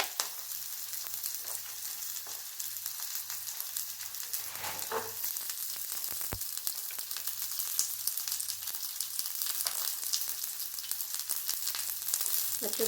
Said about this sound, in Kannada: ಈಗ ನಾನು ಬೆಳ್ಳುಳ್ಳಿನ ಹಾಕ್ತಾ ಇದ್ದೇನೆ